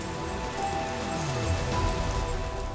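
Steady rain pours down on a surface, standing in for methane rain on Saturn's moon Titan, a dense, continuous hiss with a low rumble beneath, close and loud with no pauses.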